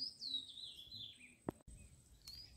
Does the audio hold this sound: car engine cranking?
no